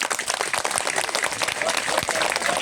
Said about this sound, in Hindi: तो आप सभी विद्यार्थी इनके लिए जोरदार ताली से वेलकम करोगे।